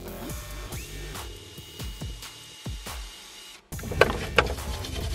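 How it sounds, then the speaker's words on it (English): A power drill running in reverse whirs in repeated short bursts, each winding up and down, then a rougher grinding stretch near the end. "you want to throw the drill in reverse"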